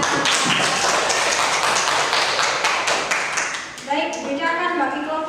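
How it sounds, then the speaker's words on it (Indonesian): Classroom applause for a student: a dense burst of many hands clapping fills the first few seconds, then thins out as a teacher's voice returns. "Tepuk tangan untuk Anastasia"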